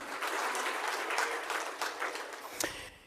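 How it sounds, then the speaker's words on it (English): Audience applause at the All First Nations Awards 2025, honouring the Artist of the Year: a steady wash of clapping that holds for about three seconds, then thins and fades out at the end. "Big round of applause one more time for our Artist of the Year"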